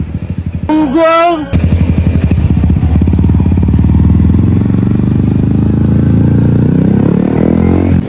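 A loud Yamaha R15 v3 sport motorcycle engine rumbles close by, revving and running steadily, with a brief voice near the start.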